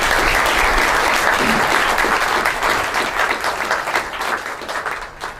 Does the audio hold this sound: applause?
yes